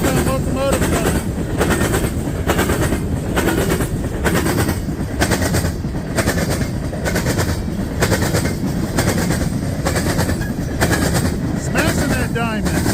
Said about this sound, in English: Got a southbound locomotive coming.